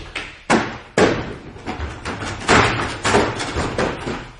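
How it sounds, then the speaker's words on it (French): Someone forcing a locked bathroom door open in a French mystery-party scene: a series of loud, heavy thuds and slams about every half second, with banging and rattling between the blows. "On va enfoncer la porte, allez voir."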